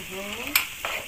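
Chopped tomatoes and bread stir and sizzle in a frying pan, with a soft crackling hiss and two short scraping strokes of a utensil, close and fairly quiet.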